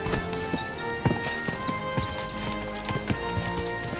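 Horse hooves clip-clop in a steady trotting rhythm on a hard surface, moderately close, with a low background hum and no voices.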